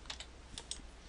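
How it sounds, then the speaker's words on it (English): A few quick keystrokes tap on a computer keyboard, light close clicks in a short burst, quiet and alone. "I can simply type it in."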